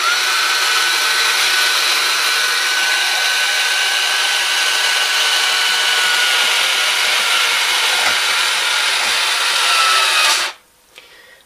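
The opening mechanism of a Hot Wheels Sho Gun Racers toy runs with a loud, steady motorized whir that holds for about ten seconds, then cuts off abruptly, leaving quiet.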